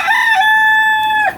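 A rooster named Beavis, kept with a flock of hens, gives a single loud, close crow, one sustained ringing call held for about a second before cutting off.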